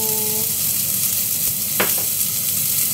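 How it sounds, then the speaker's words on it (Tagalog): Onion sizzles in olive oil in a hot pan for a Greek baked orzo, a constant dense frying hiss with a brief scrape of stirring partway through and no talk. "igisa natin sa onion"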